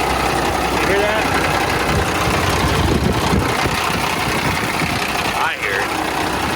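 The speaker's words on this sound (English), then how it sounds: "it's got that diesel clatter" A diesel engine idles with a steady low rumble and rapid clattering knock close by, running continuously while people talk over it.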